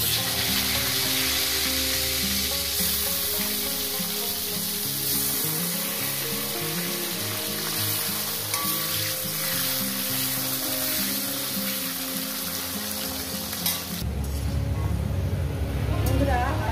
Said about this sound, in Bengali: আলুগুলো ভাজা হয়ে গেছে, দেখুন